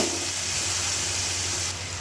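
Onions sizzling in hot oil in a pot on a stove, a steady close frying hiss throughout that drops slightly near the end.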